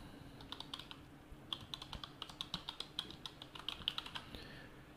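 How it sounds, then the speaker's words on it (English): Keys clatter on a computer keyboard as a domain name is typed in a browser, a steady run of close, crisp clicks that starts sparse and then speeds up into quick bursts with no talking. "So let's start by typing in the domain name."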